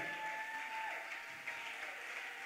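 A church congregation applauds the Lord together, a steady, dense wash of clapping that carries on throughout.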